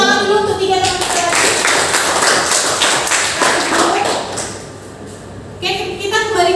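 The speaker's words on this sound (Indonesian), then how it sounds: "tepuk tangan dulu untuk 3 teman-teman" Students in a classroom give a round of applause, brisk clapping that holds for about four seconds, then fades before a voice resumes speaking.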